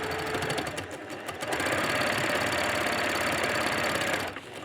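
A needle felting machine punching silk dupioni and fleece, giving off a dense, steady, loud mechanical chatter that runs almost without a break before easing off near the end, with no talking.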